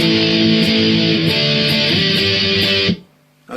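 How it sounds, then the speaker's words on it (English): Heavily distorted electric guitar hammers out basic power chords from a song's chorus, loud and sustained for a few seconds before cutting off and leaving a faint ringing tail. "just some more basic power chords"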